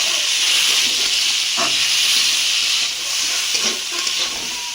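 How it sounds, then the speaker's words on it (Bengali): Potatoes seasoned with salt and a little turmeric fry in a pan, producing a loud, continuous hissing sizzle close by, with occasional faint stirring clatter. "ভালোভাবে আলুগুলো ভেজে নেব"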